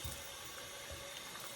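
Tap water runs steadily while a baby's bath is being filled and checked to be lukewarm, a soft continuous splashing flow heard alone at low level.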